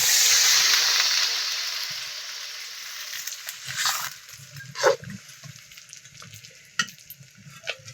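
Water poured into meat frying in a wok sets off a loud hissing sizzle that fades over several seconds, followed by quieter bubbling and a few sharp stirring clanks.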